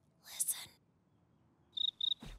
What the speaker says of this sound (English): Acheta domesticus, the house cricket.